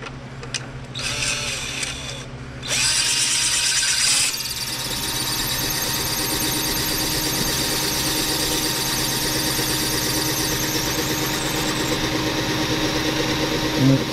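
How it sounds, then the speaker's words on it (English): A small drill whines and squeals as it bores through a brass grommet for an HMS Bounty model, starting with short bursts, then settling into a steady, close, high-pitched running tone that lasts to the end. "we got to drill through that because it's too small for this rope"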